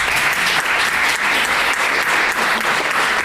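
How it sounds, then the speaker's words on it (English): A theatre audience applauds at a rehearsal of a stage play. The clapping is loud, dense and steady for the whole stretch, with no voices over it. "The audience applauds."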